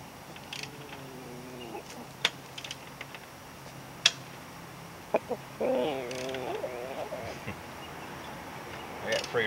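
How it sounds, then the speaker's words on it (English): Free-ranging chickens cluck nearby in a yard during motorcycle muffler work, with soft broken clucking phrases, a few sharp ticks and metallic clicks, over quiet background. "I got free-ranging chickens,"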